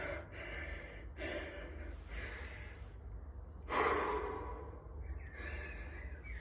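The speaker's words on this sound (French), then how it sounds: "Reprenez quelques respirations par la bouche au début parce que vous n'avez pas le choix." Heavy mouth breathing during a metcon workout, with about five or six close, rhythmic inhales and exhales, one noticeably louder gasp partway through, and no talking.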